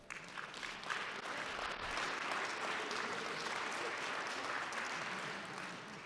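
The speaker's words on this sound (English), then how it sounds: "How about giving them all a round of applause?" An audience at a Mille Lacs Band of Ojibwe candidate forum gives a round of applause, even dense clapping heard from a distance, steady for several seconds without talk.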